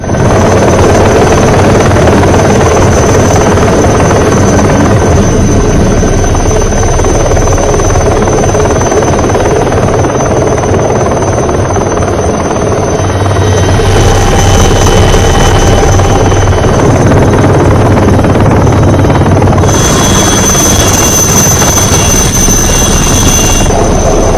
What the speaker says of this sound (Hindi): भारतीय वायुसेना का हेलीकॉप्टर पहुंचा है श्रीलंका में